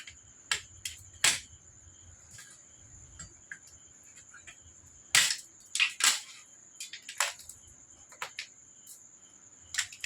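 An Andaman creek mud crab is cut up at close range, with sharp, irregular crunches and cracking snaps of shell separated by quiet pauses, over a thin, constant high background tone.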